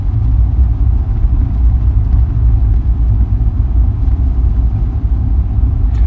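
A vehicle cruises steadily along a road at about 30 mph, its engine and tyre noise a constant low rumble heard from inside, with no talking.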